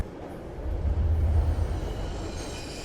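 A train from a TV drama episode rumbles past, a low steady rolling noise that swells in the middle and then eases, moderately loud with no voices.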